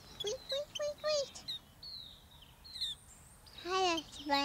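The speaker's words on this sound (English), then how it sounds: "Come and have a swim, little birdie." A small bird chirps in short, bright bursts, alternating with a child-like voice in a cheerful children's TV setting; calls are close and clear, separated by brief pauses.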